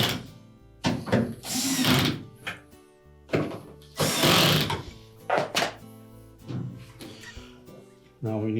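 A power driver tightens the drain pump mounting screws on a Whirlpool washer in several short buzzing bursts, broken by clunks and handling noises close by, with a voice talking now and then in between.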